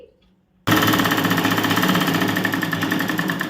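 Sewing machine running a tuck into a blouse, starting abruptly after a quiet moment and then a rapid, steady mechanical stitching rattle, close and loud.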